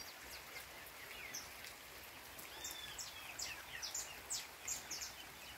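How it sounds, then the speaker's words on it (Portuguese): Light, fine drizzle falling outdoors at a house on a warm afternoon, a soft steady patter with scattered droplet ticks and faint bird calls in the background, no talking. "Eu falei com vocês da chuva fininha,"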